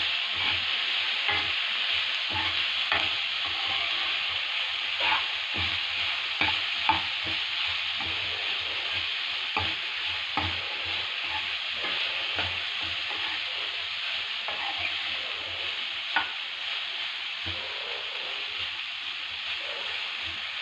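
Vegetables sautéing in hot oil in a pan, a steady bright sizzle with frequent scraping stirs of a utensil across the pan, close and continuous with no voices.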